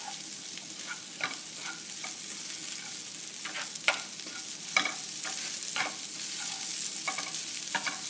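Boiled potato frying in a pan for samosa filling, a steady soft sizzle broken by scattered scraping stirs and light clicks of the spatula against the pan, close and moderate in level.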